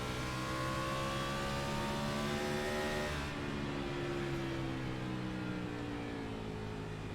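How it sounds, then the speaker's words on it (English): A race car engine in a racing video game at Richmond Raceway, heard from the cockpit view, drones steadily and loud throughout, its pitch shifting as the car accelerates and eases off, with no talk. "We're going to take a look from the cockpit view here of Philip Brown's car here."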